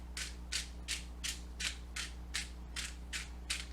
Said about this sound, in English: Then I have this garlic pepper seasoning grinder